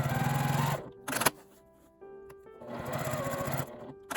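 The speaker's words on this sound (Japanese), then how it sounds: "上は2センチ開けて横を仮縫いしておきます" A sewing machine runs a long basting stitch down the side of a fabric zipper pouch, with two steady bursts of rapid mechanical whirring separated by a short pause and a few clicks as the fabric is adjusted.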